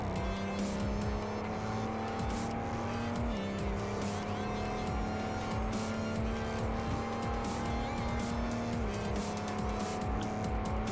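Pagani Huayra Tempesta engine in Car Mechanic Simulator 2018, droning loudly and continuously with shifting revs and gear changes, tire noise underneath, no talking over it.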